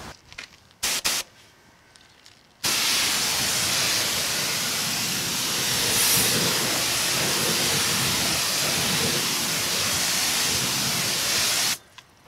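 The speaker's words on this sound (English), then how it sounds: "I'm going to rinse it down anyway, though, so that you can watch how the water kind of reacts with it" A water hose sprays a wheel rim to rinse off tire cleaner, giving a loud, steady hiss that runs unbroken for about nine seconds before stopping abruptly, with a few brief knocks just before it starts.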